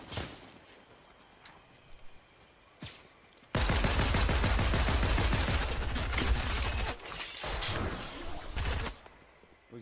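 A rapid, dense burst of automatic gunfire in Fortnite bursts in after a quiet stretch with a few single shots, then continues for several seconds before fading into scattered reports.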